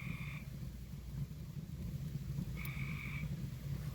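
A frog croaks twice outdoors near a charcoal barbecue grill, two short croaking calls several seconds apart over a steady low background hum, moderately near and clear.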